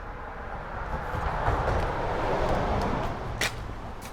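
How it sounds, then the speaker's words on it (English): Loud street traffic roars past nearby, a broad continuous rush that swells and fades over a few seconds, with a short sharp noise near the end. "The street is pretty loud."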